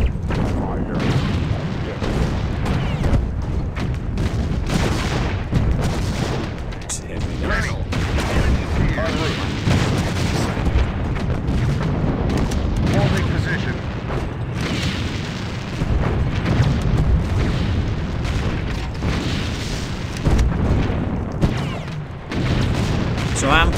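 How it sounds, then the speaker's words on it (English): Artillery pounds away in Sudden Strike 2 as deep booms and rumbling gunfire roll almost nonstop, dense and loud, with scattered spoken unit callouts mixed in. "Artillery ready. Enemy sighted."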